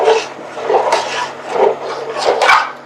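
Thickening papaya halwa is stirred in a pan, giving soft rhythmic scraping and sticky squelching strokes, about four sweeps in three seconds, close and moderately loud, with a faint low hum underneath.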